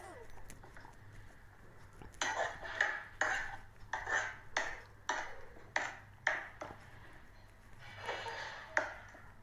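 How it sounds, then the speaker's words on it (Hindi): A metal spatula scrapes and knocks against a pan while paneer masala is stirred and roasted, giving rhythmic clinks and scrapes in steady strokes, fairly quiet and close. "फिर मैंने उसको भुना, पलटे से हिलाया मैंने"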